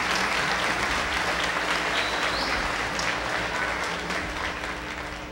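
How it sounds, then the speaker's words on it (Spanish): Steady applause from a concert audience fills the whole stretch, dense and continuous at a fairly even level before easing slightly toward the end. "Un aplauso, porque esa es la realidad."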